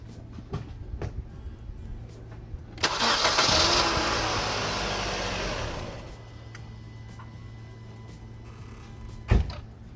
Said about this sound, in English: When the car now should start.